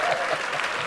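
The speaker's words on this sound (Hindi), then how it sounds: "जोरदार ताली हो जाए यार हमारे मेहमानों के लिए।" A studio audience at a comedy talk show claps loudly for arriving guests, a thick continuous burst of applause with a faint hint of voices mixed in.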